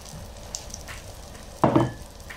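Eggplant with salted egg and oyster sauce being stirred in a hot pan, a soft sizzle with light scraping, then a louder burst of frying and stirring near the end, close and without talk.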